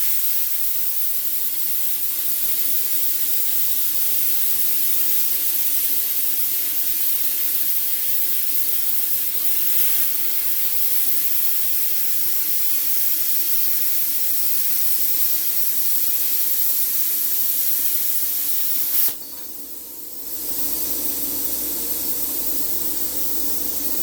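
Bestarc BTC800DP plasma cutter slicing through metal, a loud steady hiss of rushing air that runs unbroken for close to twenty seconds, then cuts out abruptly, leaving a quieter airflow tail.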